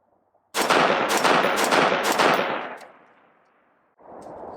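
A Brownells BRN4 HK416 clone rifle with a Surefire flash hider fires four rapid, loud shots in quick succession outdoors, followed by a long fading echo, a short silence and a fainter rumble at the end.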